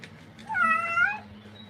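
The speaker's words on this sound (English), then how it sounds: "You've got the most pitiful little meow." A long-haired cat gives a single drawn-out, plaintive meow during a bath, close and clear over faint background noise.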